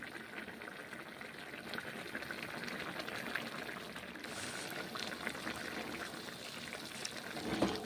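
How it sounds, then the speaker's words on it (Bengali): Cauliflower curry seasoned with salt and turmeric simmers and bubbles steadily in a pot as it is stirred, a dense, even wet crackle with no talking. "নুন হলুদগুলো নেড়ে ছেড়ে দিচ্ছি।"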